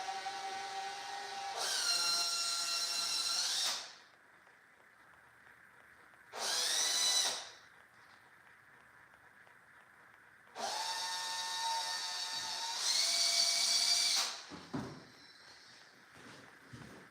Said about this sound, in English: I drill those holes out there.